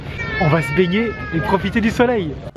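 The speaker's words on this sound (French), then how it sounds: "Moi, j'adore les chats roux et là, j'ai trouvé mon chat." Small ginger cat meowing repeatedly close by on a sunny day in Croatia, several rising and falling mews in quick succession, while a person speaks French over the same moment.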